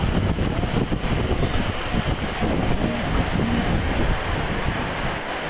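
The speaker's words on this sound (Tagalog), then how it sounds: "Sobrang lakas ng hangin." Strong typhoon wind by the Marikina River roars in continuous loud gusts, buffeting the microphone with a rain-like hiss and no voices.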